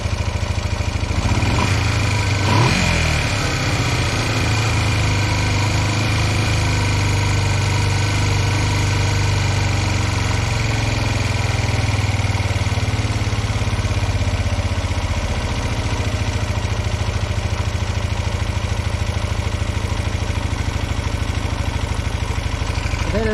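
A Honda CB125 Twin motorcycle engine idles steadily and close by, a rough low rumble that stays continuous throughout with slight wavering as it struggles to settle.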